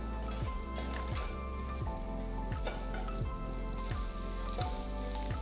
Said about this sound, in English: Stir fry the bhindi for about 5 minutes on medium flame.